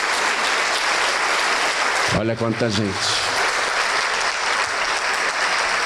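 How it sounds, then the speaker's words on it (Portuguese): Church congregation applauding during a sermon, a loud sustained crowd of clapping that continues throughout while someone briefly speaks over it. "vamos aplaudir ao nome de Jesus"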